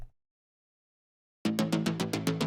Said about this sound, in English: You've got this arpeggiated bass layer.